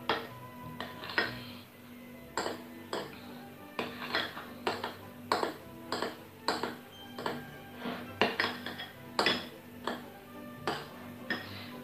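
Spoon clinking repeatedly against a bowl while aquafaba, sugar and oil are stirred together, a steady run of close, bright taps roughly every half second with no talking.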